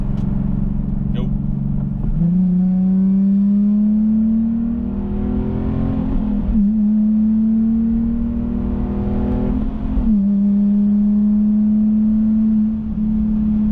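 A Nissan 370Z sports car engine accelerates hard, its pitch climbing steadily through several gear shifts, loud and close, with a constant roar throughout.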